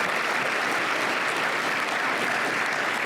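Steady audience applause fills the room at a business partnership's annual meeting and tenth-anniversary celebration, a dense, even wash of many hands clapping throughout without pause.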